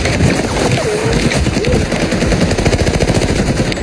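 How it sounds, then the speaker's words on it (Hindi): Sustained rapid automatic gunfire from a film shootout, a dense, loud hail of bullets crackling continuously with no pauses, accompanied by intermittent whistling ricochet-like tones. "गोलियों की बौछार होने लगी।"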